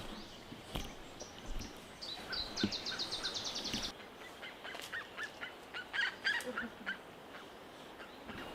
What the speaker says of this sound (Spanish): Es una gallina silvestre.